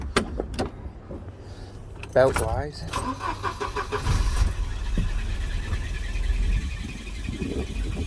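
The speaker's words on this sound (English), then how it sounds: "So I'm going to start the engine now." A Volvo 940 engine cranks and catches, then settles into a steady, noisy idle while a person talks over it.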